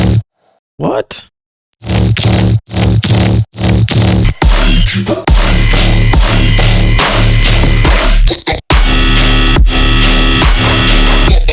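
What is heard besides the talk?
heavy dubstep quarter note slug bass sound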